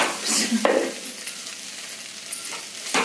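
Tamarind chutney mixture is stirred in hot oil in a pan to cook off its raw smell, soft sizzling under a few scraping strokes of a spoon, close and moderately loud.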